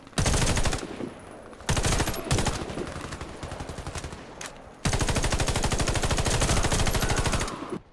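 Rapid automatic gunfire in the online shooter game Warface, loud bursts of repeated shots with short gaps between them and a long sustained burst toward the end.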